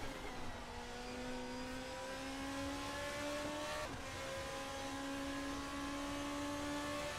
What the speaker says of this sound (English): Sounds like an Indy car.